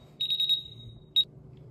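An MGT Senko gas detector alarm sounds a quick run of four sharp beeps, then a pause and one more beep, loud and close over a low background hum.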